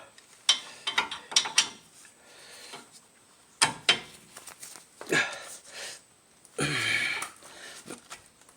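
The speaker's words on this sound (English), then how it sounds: "I am going to be using a breaker bar." A breaker bar with a 17mm socket works on front brake bolts of a 2010 Kia Soul, giving sharp metallic clicks and clanks in scattered bursts, then a louder scraping rattle near the end, at close range.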